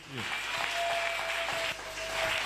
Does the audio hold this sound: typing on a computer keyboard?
no